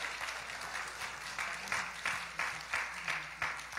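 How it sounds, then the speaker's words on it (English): Church congregation applauding at a Mother's Day service, soft and distant, a steady wash of clapping with a few louder nearby claps standing out toward the end. "Let's give them a round of applause."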